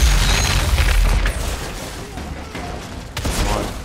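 Shotgun gunfire and booming blasts in the shooter game Outriders, loud and dense at the start, then dropping to a busier, quieter combat din with another sharp blast near the end, with a voice talking over it.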